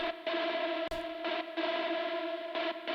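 A sustained synth tone with a buzzy, distorted timbre pulses in volume via an LFO on the volume, cutting in and out rhythmically as one held note plays.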